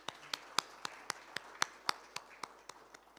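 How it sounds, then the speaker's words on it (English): A round of applause at a road transport conclave awards event, heard as a sparse, slow series of about a dozen separate claps, fairly faint and evenly spaced rather than a full crowd ovation. "I think that deserves a round of applause."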